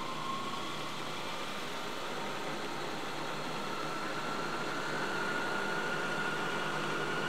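A PowerMatic 2800 drill press running up toward its maximum speed, giving a steady, dense whirring motor hum with a faint tone that climbs in pitch, continuous and close, with no voices.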